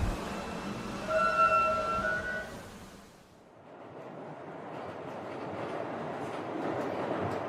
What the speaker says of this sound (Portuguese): Metrô.